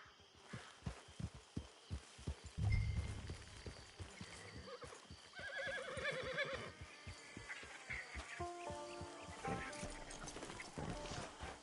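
A horse whinnies amid rhythmic hoofbeats in the game Red Dead Online, with faint game music and effects in the background.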